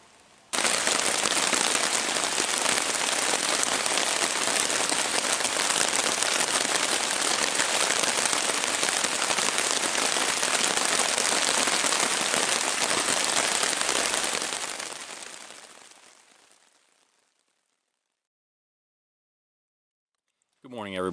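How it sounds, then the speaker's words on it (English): Rain falling on a tent at night on a long solo thru-hike, a dense, loud, steady patter of drops drumming on the fabric for about fifteen seconds before fading away into silence. "The rain's just starting to fall."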